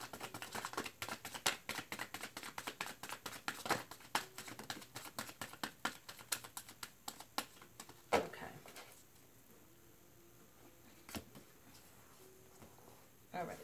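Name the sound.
shuffling tarot cards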